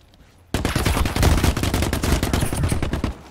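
Gunshots in The Cycle Frontier shooter game, a sudden burst of rapid automatic fire starting after a brief quiet lead-in and continuing loud and close for about two and a half seconds.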